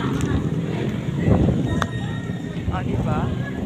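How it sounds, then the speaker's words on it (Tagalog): Wind blows outdoors in the open countryside, buffeting the microphone with steady low rumbling gusts while a person talks throughout. "Sarap ang hangin dito guys, oh."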